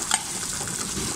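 Garlic, ginger and onion sautéing in a pan, a steady close frying sizzle with a few light stirring scrapes, no talking.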